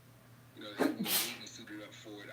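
A single loud sneeze bursts out mid-conversation, preceded by a quick sharp inhale, with casual talk continuing around it.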